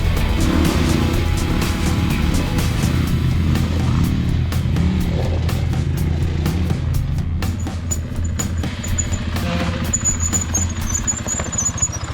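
A dual sport motorcycle carrying soft luggage climbs a steep off-road hill, its engine droning loud and continuous with rising and falling revs, heard up close with no talking.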